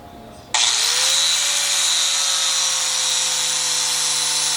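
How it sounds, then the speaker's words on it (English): A power grinder kicks on abruptly and grinds down the threads of a seat bracket bolt for a Toyota FJ Cruiser, giving a loud, steady, high-pitched whine that holds without pause, close up. "grind down about 3 threads here"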